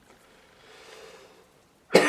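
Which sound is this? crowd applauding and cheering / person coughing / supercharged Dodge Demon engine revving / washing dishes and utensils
person coughing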